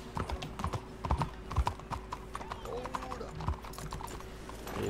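Horse hooves clip-clop at a steady walking rhythm in the Red Dead Redemption 2 video game, close and distinct, over a low ambient background.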